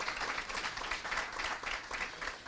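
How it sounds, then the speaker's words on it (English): Round of applause from an audience at an opioid roundtable meeting in Berea, Kentucky, a dense, even wash of many hands clapping, fairly faint and steady throughout. "give her a round of applause."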